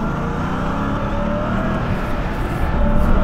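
A RAM TRX truck engine in a rally racing video game gives a loud, continuous growling drone that swells slightly toward the end.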